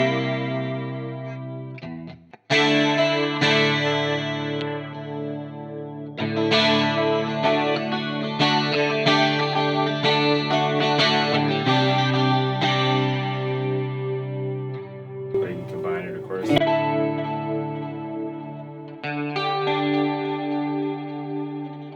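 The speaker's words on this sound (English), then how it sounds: "Chorus pedal." An electric guitar through a chorus pedal plays sustained chords and notes with a shimmering, swirling effect and slight distortion, ringing out alone after a brief pause.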